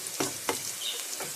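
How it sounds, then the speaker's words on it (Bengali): Food frying in a pan until reddish-brown before greens go in: a quiet, continuous sizzle with a few soft scraping stirs, heard close up and alone. "এটা একটু ভালো করে লাল লাল করে ভেজে নিয়ে আমি শাকটা দিয়ে দিব"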